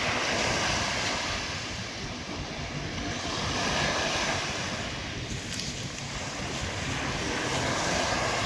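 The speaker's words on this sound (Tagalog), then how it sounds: "May dumaan na aeroplano." An airplane passes over Manila Bay Dolomite Beach, its engine drone blending into loud surf and wind noise that swells and fades across the span.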